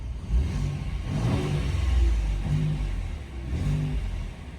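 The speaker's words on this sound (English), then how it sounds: "Let's give it some light revs." A 2020 Ford F-150 Raptor pickup engine given a few light revs while parked, three short rising-and-falling swells of a deep mid-pitched engine over a steady idle, close by with no talking.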